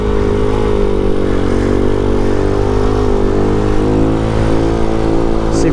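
Vader 125 motorcycle, a Grom clone, revving hard during a wheelie, a loud, steady, close engine drone that holds throughout.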